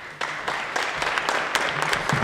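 Audience applauding at a spring graduation and awards ceremony, steady clapping from many hands throughout, fairly close, with a few louder individual claps standing out and faint voices underneath.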